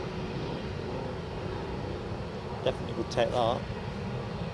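An aircraft at Edinburgh airport on a positioning departure gives a steady, distant engine roar across the whole clip, while a person speaks briefly over it.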